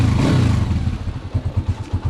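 A motorcycle engine at close range catches and settles into a rough, pulsing idle with rhythmic chugging, loud and alone.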